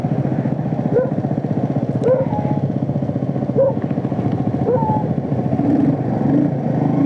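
A Honda CGL125 motorcycle with a swapped 150 engine modified to 200cc runs steadily nearby, its single-cylinder engine thrumming with a fast regular pulse and brief rises in revs, with no talk over it.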